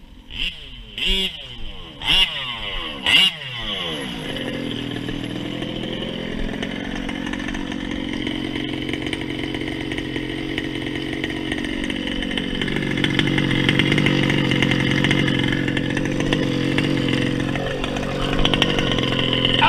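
A 1/5 scale nitro RC race car engine pulls over with a few sharp revving bursts, then settles into a loud, steady buzzing idle that carries on close by, swelling slightly near the end.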